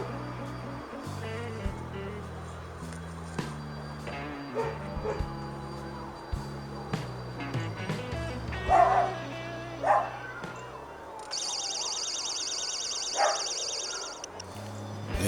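A homemade shark bite fish alarm under test gives out a loud, shrill, rapidly pulsing electronic beep that starts suddenly near the end, after a stretch of lower mixed background noise.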